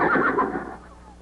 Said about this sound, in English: Sounded like a horse.